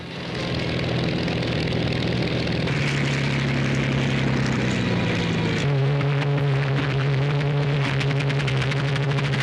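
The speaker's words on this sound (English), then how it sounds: "our fighter pilots take off to destroy the enemy" Fighter planes take off in a loud, continuous roar of propeller aircraft engines, a steady droning hum that shifts pitch partway through as the engines build.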